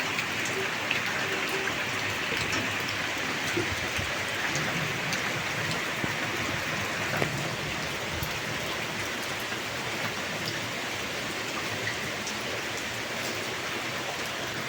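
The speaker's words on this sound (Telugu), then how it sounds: "గట్టు వానండి మా ఇంటి కడిగా" Heavy rain falls steadily near a house, a dense, continuous hiss of drops hitting surfaces with no pauses and no voices.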